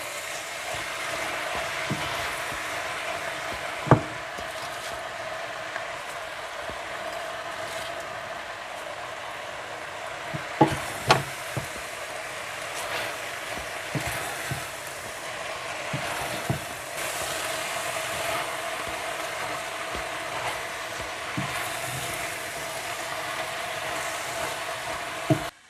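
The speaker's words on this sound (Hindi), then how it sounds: "आंच को तेज़ रखें और पालक डालते जाएं और मिलाते जाएं।" Spinach being stirred and fried in a pan over high heat for chana dal palak, a steady close sizzle with scattered scraping stirs and clanks running throughout.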